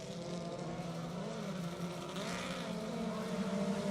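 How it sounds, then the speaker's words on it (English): A race car engine at a speedway, heard as a loud, continuous motor drone that holds steady for the full four seconds with no voices present. "you heard that car rev real high when the caution came out"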